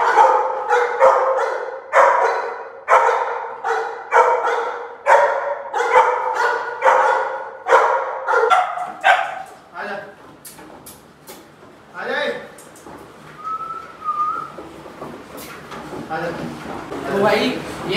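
Cane Corso Italian Mastiff dogs at a kennel bark loudly and repeatedly in a steady rhythm for about nine seconds, then fall quieter with scattered yips and room noises.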